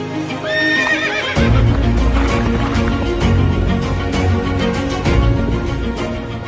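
Horses of the President's Bodyguard neigh and whinny loudly over steady clip-clopping hooves, with several calls early on and the hoofbeats continuing throughout.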